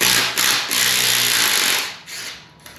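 A power tool whirs loudly and steadily up close as an 8 mm Allen bolt is backed out of a 3.0 Duramax LM2 engine, then winds down near the end.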